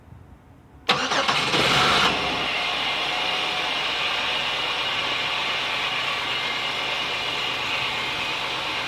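An Oldsmobile Silhouette with a hard-starting fuel system problem cranks briefly and catches, then settles into a steady, close idle that runs on evenly for several seconds after near silence.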